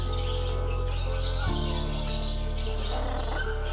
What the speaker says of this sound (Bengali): এটা হচ্ছে মেকাও পাখি